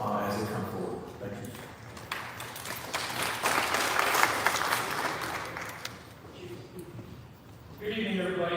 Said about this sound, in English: please give them a round of applause as they come forward